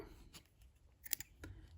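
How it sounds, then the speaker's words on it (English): Scissors snipping through yarn, a few short crisp cuts close by and fairly quiet, with the sharpest snip near the end and no talk. "using your scissors you chop off the yarn"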